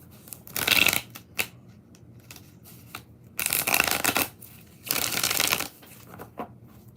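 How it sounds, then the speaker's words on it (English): A stiff deck of cards being shuffled during a card reading, in three loud riffling bursts separated by short pauses and softer handling, with no one speaking. "Two more shuffles, because this one is always the stiff-ass deck."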